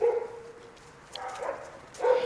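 Dogs at assistance dog kennels bark and yip in a few short bursts, moderately close with brief pauses between, with no talk over them.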